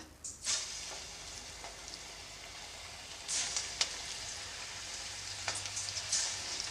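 Onion bonda batter drops into well-heated oil and fries with a continuous soft sizzle, broken by brighter crackling swells and small pops as more batter goes in.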